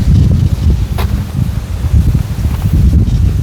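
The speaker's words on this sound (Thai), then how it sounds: "ลมเย็นคักเนาะเฮือนเจ้านี่" Wind rustling leaves outside a house, a steady, close, noisy roar and rustle that swells and dips irregularly and carries on throughout without a break.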